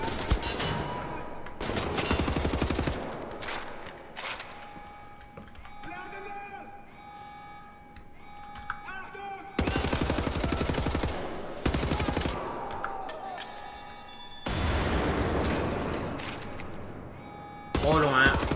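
Bursts of assault rifle fire from the shooter game Wolfenstein The New Order rattle in several loud volleys separated by quieter game sounds, with a player talking over parts of it.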